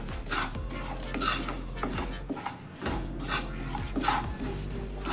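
A spoon stirs sugar as it melts in a pot, scraping and clinking against the metal in a steady, close rhythm over a soft sizzling background.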